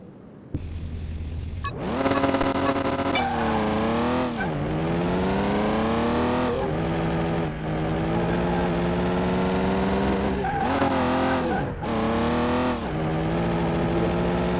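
Game engine of an old red farm pickup truck in Car Mechanic Simulator 2021, idling then revving hard in repeated bursts, pitch climbing and falling with each throttle blip, loud and close, no talking.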